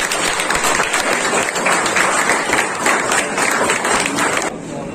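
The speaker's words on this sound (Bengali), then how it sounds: "সবাই জোরে করতালি" Loud, dense applause from an audience at the opening of a state fencing championship in Kolkata, sustained clapping that stops abruptly near the end.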